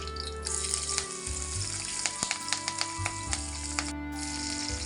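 Green chillies sizzle in hot oil with spices in a pan, a steady close frying hiss with scattered sharp crackles and pops and a few stirring clatters.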